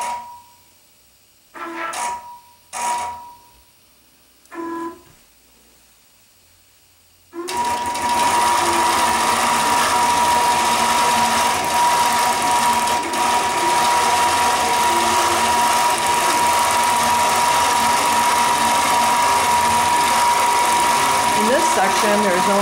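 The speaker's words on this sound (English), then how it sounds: "Stitching the very last design right now." A quilting sewing machine stitches an edge-to-edge design. After a few brief spoken phrases and pauses, the machine starts and runs loud and close with a continuous whirring, rattling hum until the end.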